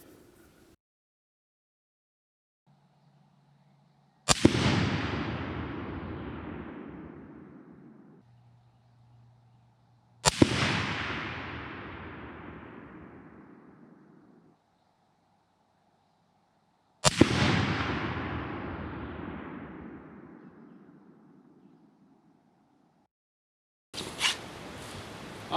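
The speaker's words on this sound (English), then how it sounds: "We're going to fire some more now and see what else we can do with this rifle." Three loud shots from an M77 .308 rifle fitted with a 24-power scope, spaced about six seconds apart, each a sharp crack followed by a long rolling echo that fades outdoors, with a faint fourth impulse at the very end.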